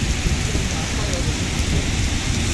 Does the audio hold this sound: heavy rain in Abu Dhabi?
yes